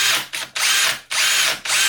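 A power drill bores a hole in an Amiga 500 Plus case in three loud, close bursts of whining motor, with short pauses between them and no speech.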